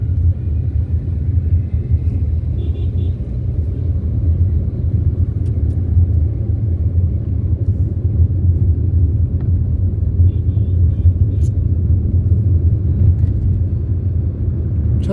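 A car engine rumbles steadily and close by on a rainy day, a continuous deep low drone that holds at an even level throughout with no clear voices.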